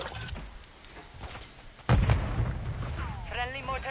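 Mortar strikes land in a video game match, a heavy boom hitting suddenly midway and rumbling on amid scattered blasts, with a game announcer's voice and other in-game audio around it.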